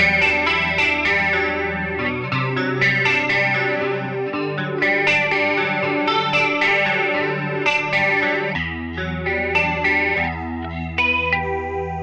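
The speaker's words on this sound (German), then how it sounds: "Dann haben wir noch ein Choruspedal, ein 70s Chorus." Electric guitar played through a Line 6 Pod Go 70s chorus pedal effect, sustained shimmering chords with a wavering, doubled tone, steady and loud throughout with no talking.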